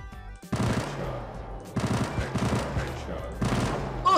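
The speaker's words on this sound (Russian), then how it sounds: "Стреляем." Video game Johnny Tiger gunfire: three loud bursts of rapid automatic shots separated by short pauses, each rattling for about a second, with a voice speaking faintly in the gaps.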